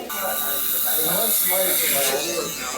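Braun Series 9 electric shaver running over the thickest part of a shaved head, a steady close motor buzz with bright hiss throughout, as someone speaks over it.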